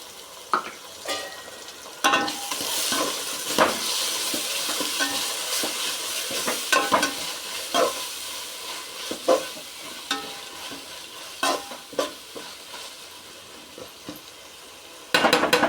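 Ginger garlic paste frying with browned onions for mushroom biryani, a steady sizzle with repeated scraping and stirring strokes, close and continuous with no talk.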